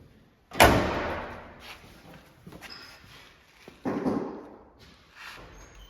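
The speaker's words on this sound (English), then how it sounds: "now just gently close it" A car door swings shut with one solid, close thud, followed by softer knocks and a second lighter thump a few seconds later.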